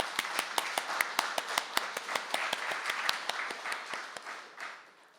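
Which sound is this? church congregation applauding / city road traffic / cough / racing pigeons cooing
church congregation applauding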